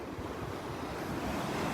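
Ocean waves and surf on a Gulf beach after several rough days, a continuous wash of breaking water and wind rush, steady and fairly near with no voices.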